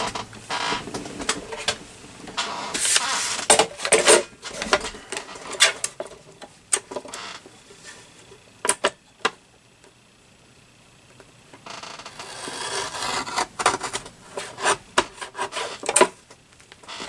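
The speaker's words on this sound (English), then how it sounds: "And my little guillotine trimmer here." A small guillotine paper trimmer slicing craft paper: a series of dry, rasping scrapes and short slides of the blade, irregular bursts separated by quiet stretches, close and moderately loud, with no talk.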